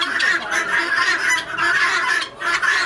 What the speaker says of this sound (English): Put them in this nice clean area here with the loud guinea hens.